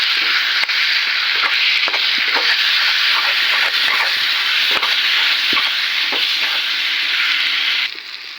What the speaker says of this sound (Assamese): আলুখিনিও তেনেকৈ অলপ সময় ভাজি ল'ম।